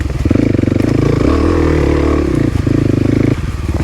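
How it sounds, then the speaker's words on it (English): A Kawasaki KLX300 dirt bike running close and loud on a ride to a quarry, its single-cylinder engine pulsing steadily with brief throttle changes and no talk. "I always forget this thing's a dirt bike."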